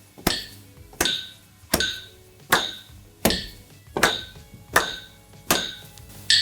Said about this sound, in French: Je lance le métronome, commencez bien sur le 1.